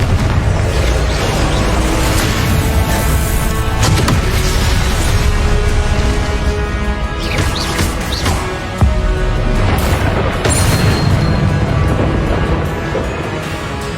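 Fiery Confringo spell blasts in Hogwarts Legacy, loud booming explosions and crackling bursts layered over a dense, continuous roar of combat.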